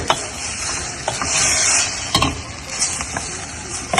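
Food sizzles steadily in a hot pan while a utensil stirs it, with scraping strokes and a couple of sharper clinks over a continuous frying hiss; no one talks.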